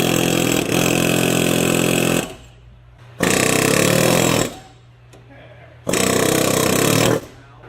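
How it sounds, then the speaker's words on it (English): An air hammer rattles in three loud, sustained bursts of about two seconds each, with quieter pauses between them, tapping a destroyed front wheel bearing on a 2006 Chevy Silverado 1500. "spray this down with a little bit of PB Blaster and then wrap tap it with an air hammer"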